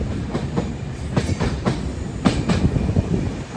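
A 12377 Padatik Express train rolls across the Farakka dam bridge, its wheels beating a steady, rhythmic clickety-clack with occasional sharper metallic clanks over a loud, continuous rumble heard from inside a carriage.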